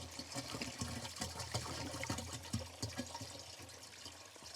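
Water pours and gurgles unevenly into a Lifesaver jerry can filter, with irregular glugging splashes that continue steadily for several seconds at close range.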